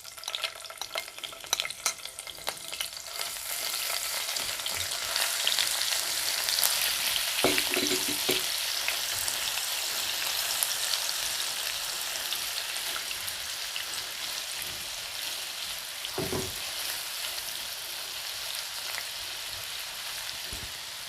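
Something fries in a pan for an egg korma, a continuous bright sizzle like light rain that swells after a few seconds. Faint scraping stirs are scattered throughout, with no voices.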